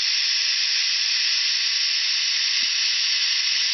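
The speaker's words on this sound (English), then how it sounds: "I'm releasing the steam out of the pressure cooker." Steam hissing out of a pressure cooker as it is vented while making deer vegetable soup, a loud continuous bright hiss holding steady throughout with no voices.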